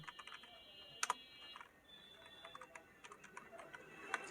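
Keystrokes on a computer keyboard as an applicant's name is entered into an online old-age allowance application form, a few sharp clicks in short bursts, close and fairly quiet.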